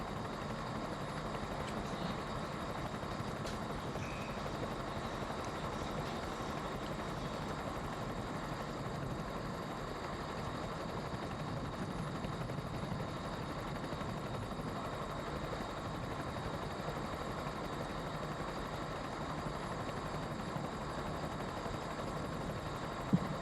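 Helicopter flying over a quad bike race start line at Le Touquet, a steady, continuous rotor and engine drone held at an even level throughout, with no voices.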